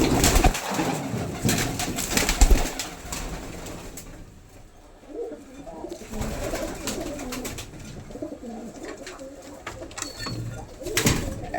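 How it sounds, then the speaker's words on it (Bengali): Pigeons coo in soft, low, repeated murmurs inside a pigeon house, several birds layered together at close range, with occasional rustling and a few sharper clatters. "আমার কবুতরের ঘরে কিছুটা সময় দিতেছি।"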